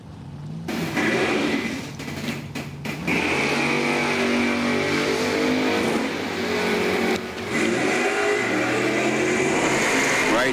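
Drag racing cars roar off the starting line at Numidia Dragway during Summit ET finals and gambler's time trials, a loud sustained engine howl with brief gaps between bursts, then rising revs as the cars pull away.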